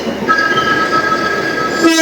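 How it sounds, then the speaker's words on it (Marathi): A Mumbai suburban slow train rolls through a crowded station, its steady rumble and rail noise continuous and close, with a sustained two-tone horn blaring for most of the stretch. "बट ही कुठची आली आहे ही स्लो ट्रेन"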